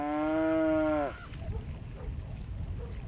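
A single long, loud cow moo carries across an open winter field, then fades into quiet outdoor ambience with faint background rumble.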